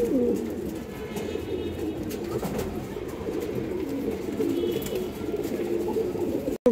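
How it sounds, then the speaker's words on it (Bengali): A large silver female pigeon, about a forearm's length, coos in a continuous low murmur among other pigeons, close and steady. "বড় সাইজের একটা সিলভার মাদি কবুতর,"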